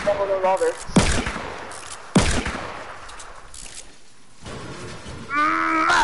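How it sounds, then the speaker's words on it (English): Sharp gunfire bursts in a video game crack out in quick succession, loud and close, mixed with grunts and a person talking over the shots. "Someone's shooting me."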